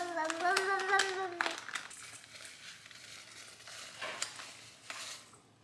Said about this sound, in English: So you basically just stir this all together.